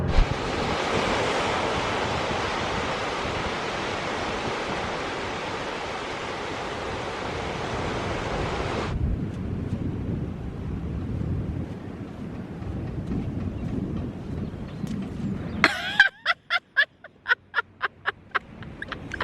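Surf breaking on the sand at Sennen Cove, Cornwall, with strong wind buffeting the microphone for the first half, then a softer wash of waves, followed by a series of close, sharp thumps and rustles near the end.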